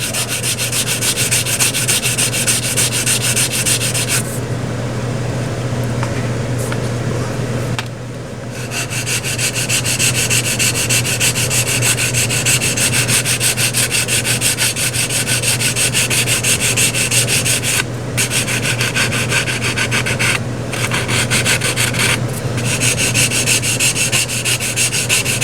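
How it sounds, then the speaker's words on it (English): Steady, continuous sanding rasps across the tail cover of an RV-6 aircraft fuselage, a loud close-up rubbing that keeps on with only brief dips and pauses, accompanied by a low constant hum. "Gotta be sanded out."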